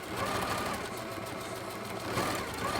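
A sewing machine runs steadily while stitching a cloth face mask, a continuous close, fairly loud mechanical whirr that holds through the whole stretch with no one talking.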